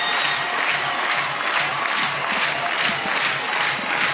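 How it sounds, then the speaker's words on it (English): Softball stadium crowd in a women's college game, Oklahoma vs Georgia, cheers after a strike: a loud, steady roar of voices and applause fills the whole stretch, swelling in waves. "that second strike gets this crowd back into it"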